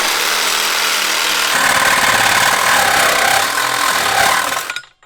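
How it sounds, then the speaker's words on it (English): A power tool cuts through the steel frame of a cheap pocket bike, a loud, continuous grinding whine that shifts pitch partway through and then cuts off abruptly, with no talking. "So we're modifying the frame by cutting this out."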